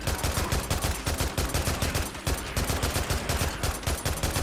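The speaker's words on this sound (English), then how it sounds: "I'm just going to get some more gun practice in here." Dense, loud gunfire from the Days Gone horde fight at Lobert Draw ridge, rapid overlapping shots in quick continuous bursts with no pauses and no speech.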